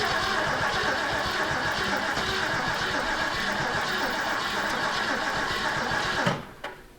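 Ford 289 V8 in a big old car runs steadily in a noisy, rattling idle under a wash of broadband sound, then cuts off abruptly near the end.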